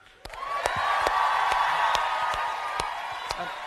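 A theatre audience applauds and cheers for the orchestra at a Phantom of the Opera anniversary performance, with steady massed clapping, a few sharp claps standing out, and whoops under it.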